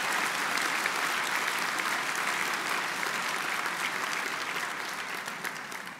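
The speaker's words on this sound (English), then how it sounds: "Let's give our faculty and staff a big round of applause" Graduates and guests at a business school spring convocation give faculty and staff a warm round of applause, a thick, continuous patter of many hands that slowly thins and fades toward the end.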